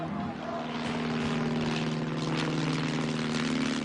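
Propeller aircraft coming in to land on a ship's deck, its steady droning engine and airscrew hum holding constant and fairly near, with a faint rhythmic throb and no voices over it.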